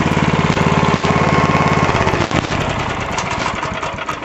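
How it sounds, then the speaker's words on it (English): A Burro crane's engine runs steadily at close range, a loud continuous mechanical drone with a rough rhythmic chug, easing slightly partway through as it keeps idling. "Kill the engine."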